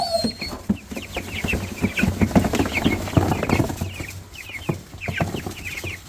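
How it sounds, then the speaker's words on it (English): Two-week-old Jumbo Cornish Cross chicks cluck and peep continuously in a close, busy flock, with overlapping chirps and soft clucks throughout and occasional louder calls. "Run, little chickies, run."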